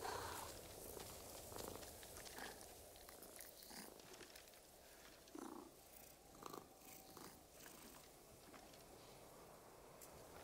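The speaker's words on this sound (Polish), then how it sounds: "jak głaszczemy kitku, to pad mruczy jak kitku" A cat purrs while being petted in the video game Ghost of Tsushima, a soft steady rumble running close and continuous with faint rustling and light clicks over it.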